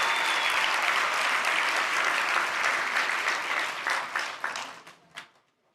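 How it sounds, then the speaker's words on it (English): An audience at a photography and video expo gives a speaker a full round of applause, dense steady clapping that holds for several seconds before thinning to a few last claps and fading out. "Folks, big round of applause for Chris, inspiring us to tell our stories."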